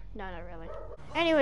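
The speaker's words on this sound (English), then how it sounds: "I apologize for my dogs barking." Pet dogs barking and yipping indoors close to the microphone, short loud bursts mixed in with someone talking casually.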